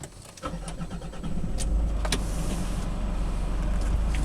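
A Nissan Tino diesel car starts with a short cranking burst, then a low, steady diesel idle rumble settles in and continues, heard from inside the cabin with a few faint clicks.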